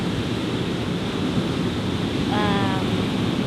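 Ocean surf at Viper Beach, a steady broadband wash of waves with wind buffeting the microphone throughout, and a brief faint tonal chirp partway through.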